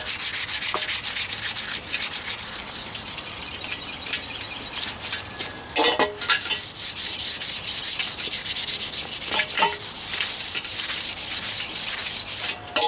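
Sandpaper rubs back and forth across a tobacco pipe by hand, a gritty scratching in quick, uneven strokes with a few brief pauses.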